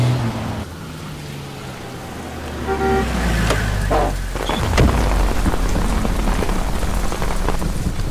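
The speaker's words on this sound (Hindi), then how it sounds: "बारिश होने वाली है" Steady rain patters on a surface, with a low rumble like distant thunder and a passing vehicle swelling midway.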